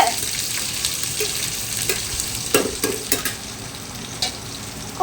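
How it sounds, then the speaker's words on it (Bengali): Onions fry in hot oil in a home kitchen, a steady close sizzle with scattered sharp crackles and pops and occasional stirring scrapes, no talking. "পেঁয়াজটা আমি লাল করি, তাড়াতাড়ি রান্নাটা সেরে নিই"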